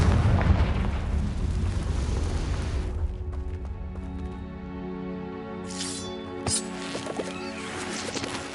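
A Confringo fire spell detonates in Hogwarts Legacy with a loud, broad roaring blast that fills the first three seconds, then fades into a quieter tonal backdrop with a few faint pops later on.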